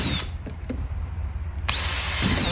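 A power drill bites into a plastic cap for a homemade bead polisher: a brief whine at the start, a long lull with small knocks, then a loud sustained drilling run to the end, close and with no voices.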